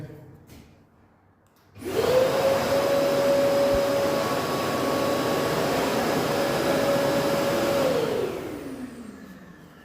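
A vacuum cleaner, switched on by a universal remote control, starts up with a rising whine, runs loud and steady close by for about six seconds, then winds down as it is switched off.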